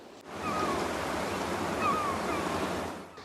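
Sea waves wash in on Bognor Regis beach as the tide comes in, a steady close rush of surf with no talk.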